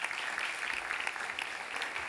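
Audience applause fills a conference hall as a guest joins the speaker on stage, a continuous moderate wash of many hands clapping, steady throughout a short stretch.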